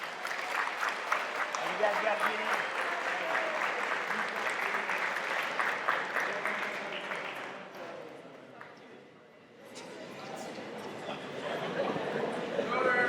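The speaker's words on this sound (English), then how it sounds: "Please give them one last round of applause." An audience at a high school athletic awards night applauds athletes with dense, steady clapping that fades briefly near the middle, then picks up again, with scattered voices underneath.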